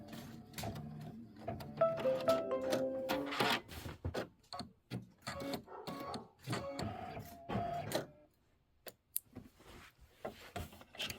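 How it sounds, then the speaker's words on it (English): A computerized embroidery machine stitches a trim placement line on a Kimberbell Thanksgiving pillow project, giving a fast, steady mechanical chatter with rhythmic needle pulses close by that pauses briefly near the end before resuming. "it's going to stitch our trim placement line"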